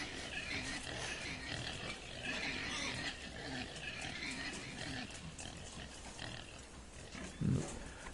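Pigs grunt and snuffle in a quiet, continuous jumble of low rough calls, one louder grunt standing out near the end.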